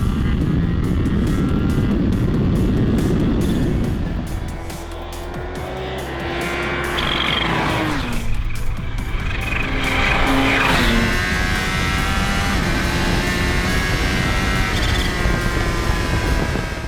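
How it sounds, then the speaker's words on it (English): A supercharged 200-horsepower Kawasaki H2 SX motorcycle, 2018 model, screams along the Isle of Man TT mountain course, with loud revving engine and rising and falling pitch through gear changes, rushing wind around it. "What does 200 supercharged horsepower feel like with 102 foot-pounds of torque over the mountain course?"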